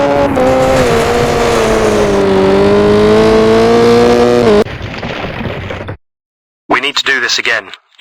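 A rally car engine drones loudly in Richard Burns Rally, its pitch dipping and rising under throttle and brake for several seconds before cutting off abruptly, followed by a brief silence and a short burst of speech.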